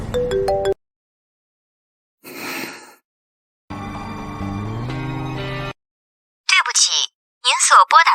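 A phone ringing during a call in a drama scene: a few short electronic beeps, then a sustained tonal ringing after a pause, followed by brief vocal sounds.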